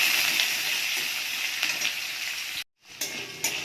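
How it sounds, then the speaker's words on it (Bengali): Potatoes, carrots and other vegetables frying in a pan with bay leaf and dried chilli, a steady close sizzle and hiss broken by a brief silence and a few stirring scrapes. "সবজি একটু ভাজা ভাজা হয়ে গেছে।"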